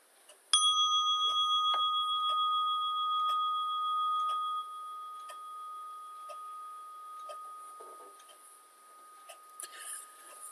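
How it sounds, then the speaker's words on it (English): A meditation bell is struck once and rings on with a clear, bright, sustained tone that slowly fades over several seconds in a quiet room, with faint soft sounds near the end. "we'll begin with the sound of the bell"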